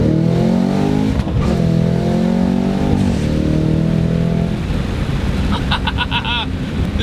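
A supercharged 668-horsepower Cadillac CT5-V Blackwing engine revs hard, a loud, continuous roar that climbs and shifts in pitch several times, close and dominant, with some wind noise.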